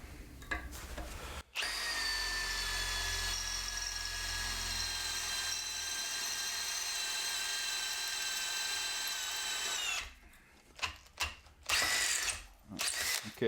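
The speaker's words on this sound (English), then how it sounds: "1/2-inch drill bit into 1/2-inch aluminium. Oh, for fuck's sakes. We got her in screw. We want to drill." A Makita drill bores a half-inch bit into half-inch-thick aluminium, a loud steady whine with a ratcheting mechanical edge running about eight seconds before cutting out into a few short bursts and clunks.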